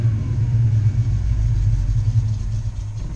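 A Bedford CF van engine runs with a steady, loud low rumble, struggling to settle into an idle and wavering slightly throughout, with no talk over it.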